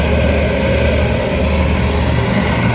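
Loud continuous drone of RAAF Roulettes propeller aircraft engines during a formation wedge barrel roll at an air show, steady and heavy with no talk.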